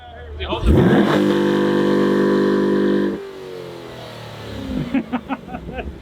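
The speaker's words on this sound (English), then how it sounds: "we're gonna try to do the world's first production car burnout here in front of the dealership" A 2020 Corvette revs hard in front of a dealership, the engine sweeping up to a loud sustained howl for about two seconds before dropping off, with people talking afterward.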